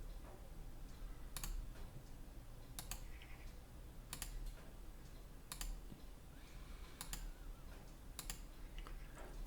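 Faint, evenly spaced computer mouse clicks, about one every second and a half, while curves are drawn in the Plasticity 3D modeling software, over a soft steady background hiss.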